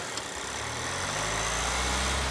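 A 2021 Audi A4 S-Line Avant engine idling, then revving up as throttle is applied, the rising engine tone holding loud and close to the end, with no talking.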